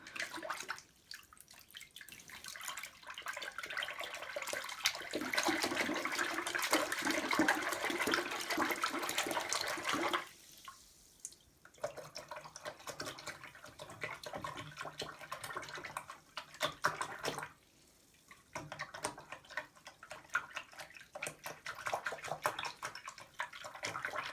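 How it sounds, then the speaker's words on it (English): Water rushes and gurgles as it drains from a sink after washing makeup brushes, a loud steady swirl that cuts off abruptly, then returns in gurgling bursts with drips and pauses. "I'm just gonna let the water out, so be prepared."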